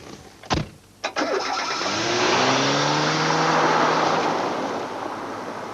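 A Peugeot 205 car passes close by, starting with a couple of sharp transient knocks, then a loud, steady engine roar that swells and holds before easing slightly, with no talk over it.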